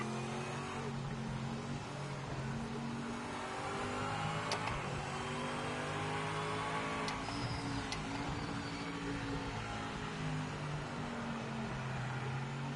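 A race car engine in the Project Motor Racing video game drones steadily at high revs with layered harmonic tones and slight pitch shifts, continuous and fairly close.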